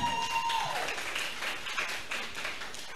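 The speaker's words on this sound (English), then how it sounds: "A round of applause for them." A crowd applauds at a graduation ceremony, steady clapping filling a few seconds at moderate volume.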